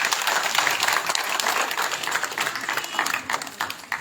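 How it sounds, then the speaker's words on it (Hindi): A large crowd at a political party rally in a village, many of them women, gives loud, dense, sustained applause that fills the whole stretch, with a voice faintly audible in the background. "भारी तादाद में आई मेरी माताओं के लिए एक बार जोरदार ताली।"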